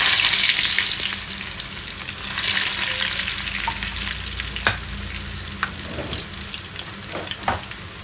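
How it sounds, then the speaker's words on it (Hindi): Garlic and red chillies fry in a pan over low heat, a steady close sizzle with occasional stirring scrapes and light pops. "ये हल्की आंच पे होने तक लहसुन को रखेंगे।"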